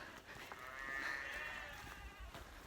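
A sheep bleats in a long, wavering call over a steady outdoor background hiss, heard at moderate distance on the Colorado Trail near Copper Mountain.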